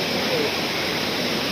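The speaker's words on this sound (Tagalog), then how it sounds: "Tumalog Waterfalls" Tumalog Waterfalls roar as a steady, dense broadband rush that fills the whole moment without a break.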